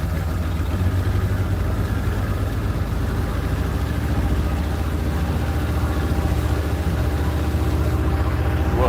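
Boat engine running steadily after a restart on Lake Ontario, a continuous low droning idle with slightly raised revs, close and loud throughout with no talk.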